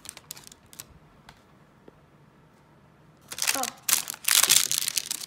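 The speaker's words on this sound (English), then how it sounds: "This is just parchment paper that you'd use in the kitchen. I like using this when I'm doing glue ups because glue does not stick to it." Kitchen parchment paper is peeled off a woodworking glue-up, making a sudden burst of close crinkling and rustling after several seconds of near quiet.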